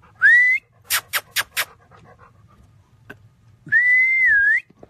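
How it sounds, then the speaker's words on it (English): Two long rising-and-falling whistles bracket a burst of quick sharp claps or clicks, calling dogs in for feeding; close and clear with brief quiet gaps between. "I'm gonna be feeding the dogs."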